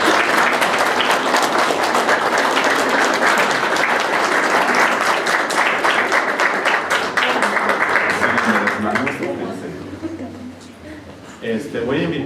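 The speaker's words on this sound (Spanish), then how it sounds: "fuerte aplauso." Wedding guests applaud the newlyweds at a ceremony in El Durazno, Concepción, with loud, dense, sustained clapping that continues for about nine seconds before thinning out as a voice begins speaking.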